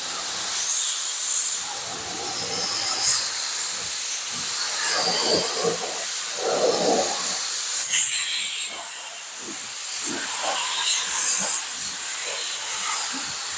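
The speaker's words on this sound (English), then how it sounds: "If you notice, when I'm spraying, see how no paint comes out." A paint spray gun blasting in repeated hissing bursts of air, several strong pulses a second or two apart, loud and close, with brief quieter gaps between passes.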